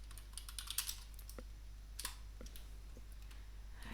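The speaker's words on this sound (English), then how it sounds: "type the command config terminal" Quick, uneven keystrokes on a computer keyboard as a command is entered while configuring a network router, close and fairly crisp, in short bursts over a low steady hum with no talking.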